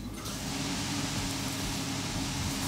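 A steady, broadband mechanical hum with a low rumble from a small portable air conditioner running close by inside a camper trailer, constant throughout with no speech.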